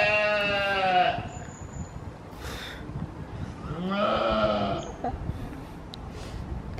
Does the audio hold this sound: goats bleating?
yes